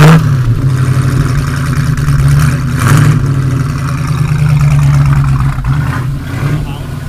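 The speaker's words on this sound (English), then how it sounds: "V8 rumble and a Sunbeam Tiger." A V8-powered Sunbeam Tiger 260 with its engine just started, giving a loud, steady low rumble at idle with a slight rise in revs partway through, close to the car.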